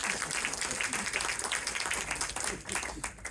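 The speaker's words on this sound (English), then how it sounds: "give Larushka a big round of applause, ladies and gentlemen" An audience at a hypnosis convention presentation applauds, a dense, steady patter of many hands clapping at moderate distance for a few seconds.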